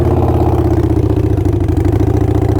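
Harley-Davidson Sportster 48 idling through Kinetic 540 Laterals exhaust, a loud, close, steady low rumble with a lumpy, even pulse throughout and no voices.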